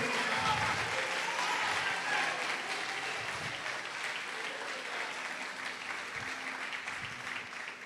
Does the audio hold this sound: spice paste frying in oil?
no